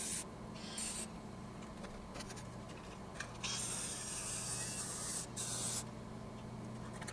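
A metal sheet is being cut for a forged Viking age pan, producing a steady, harsh rasping hiss with a constant low hum underneath and brief louder bursts, heard close with no talking.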